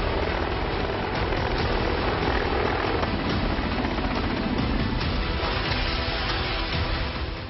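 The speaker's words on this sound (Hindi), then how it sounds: "हवाई युद्ध के ऑलराउंडर हेलीकॉप्टर।" Military helicopters fly in a continuous, loud, dense rotor and engine roar that stays steady throughout and dips slightly at the very end, with no voices.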